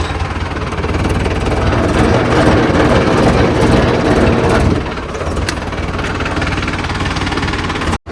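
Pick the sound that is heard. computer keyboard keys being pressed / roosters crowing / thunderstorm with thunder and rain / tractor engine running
tractor engine running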